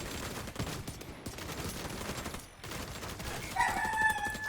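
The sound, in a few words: gunfire hitting deflector shield, Division 2 video game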